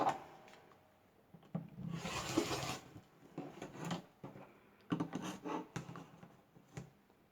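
A sewn fabric strip set for quilt blocks is cut on a mat, giving quiet scraping and rolling cutter strokes with soft handling rustles and small knocks in between, close but faint.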